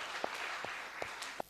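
Light, sparse applause at a graduation ceremony, a quiet hiss of distant clapping with a few distinct nearby claps spaced out at a slow rhythm.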